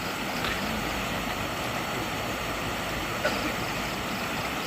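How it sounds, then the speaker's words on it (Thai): Continuous rushing of a stream flowing past a riverside campsite, steady and fairly close, with no talking over it. "นอนฟังเสียงน้ำไหลทั้งคืน"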